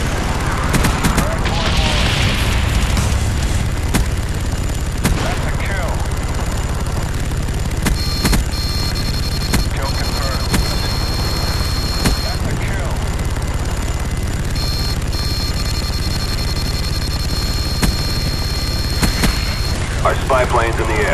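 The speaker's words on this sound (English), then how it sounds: "Friendly napalm strike on the way." Napalm strike and gunfire from Call of Duty on the Nuketown map, with booming blasts, bursts of rapid shots and a low rumble running throughout, while a game announcer voice speaks over the din.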